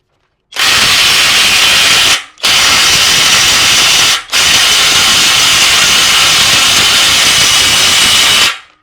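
An APR AP33PRO cordless impact wrench tightens at close range in three loud, sustained bursts of harsh buzzing whine, separated by brief gaps, the last burst running longest.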